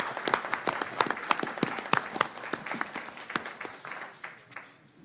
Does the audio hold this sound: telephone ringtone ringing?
no